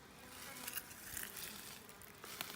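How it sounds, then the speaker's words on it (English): Honeybees at an opened Kenyan top-bar hive give a soft, steady, close buzzing hum with a few faint clicks, no voices. "I'm only dealing with literally these bees right here"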